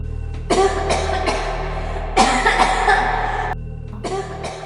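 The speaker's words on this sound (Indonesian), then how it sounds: "Suara batuk pelan" A woman coughs softly in short bursts, several quick coughs in a row, then a longer fit and a final cough, close by in a quiet hospital room.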